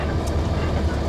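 A pair of CSX EMD SD40-2 six-axle diesel locomotives idle in a rail yard, a loud, steady low engine rumble throughout, with no talking.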